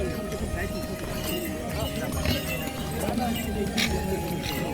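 Horse hooves clopping on a steep mountain pilgrimage trail toward Kedarnath, a dense irregular patter of clip-clops under constant crowd noise and nearby talking.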